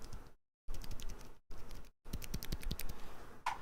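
Bursts of typing on a keyboard fitted with Cherry Silent Red switches: soft, muffled key clicks in quick clusters, separated by brief silent pauses, with one sharper tap at the end.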